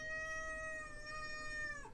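A single drawn-out cat meow, steady and fairly clear, ending in a short downward trail, heard alone with no talking.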